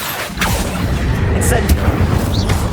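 Casting the Accio summoning spell in Hogwarts Legacy gives a loud magical whoosh with booming, rumbling impacts and short sharp zaps layered over busy game combat noise.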